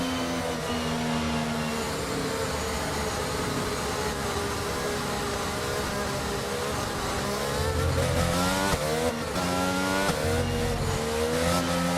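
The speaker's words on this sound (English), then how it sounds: "As the cars come back to the grid to line up for the start of the race" Formula 1 cars in F1 22 at the 2022 British Grand Prix roll back to the grid before the start, a steady loud engine drone with rising revs and a brief tire squeal, plus a background music-like hum.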